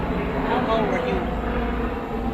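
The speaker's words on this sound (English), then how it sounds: "Got that airplane up there." Outdoors, an airplane passes high overhead with a steady, broad rumbling drone that holds evenly for a couple of seconds.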